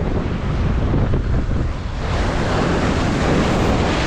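Ocean waves surge and wash at a rocky fishing spot, a loud continuous roar of surf mixed with wind rumble on the microphone, close and unbroken.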